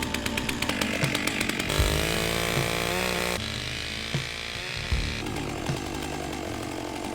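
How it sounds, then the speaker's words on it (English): A chainsaw roars continuously up close, its pitch dipping and rising as it bites through dirty root wood, loud and steady throughout. "one of the quickest ways to blunt a chainsaw chain, then try cutting through dirty wood"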